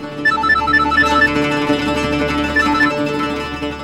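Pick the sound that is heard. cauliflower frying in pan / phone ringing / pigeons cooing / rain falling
phone ringing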